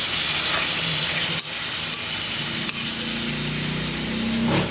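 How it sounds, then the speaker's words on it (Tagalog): Pork dela being stirred in a pan over steady loud frying sizzle, with a few sharp utensil knocks against the pan and a rising bubbling hiss toward the end; no talking. "So haluin na natin mga kabarikoy para po ay ma-mix."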